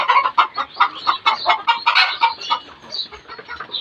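Egg-laying hens on a farm cluck loudly and close by, a rapid run of repeated clucks and squawks overlapping from several birds without pause.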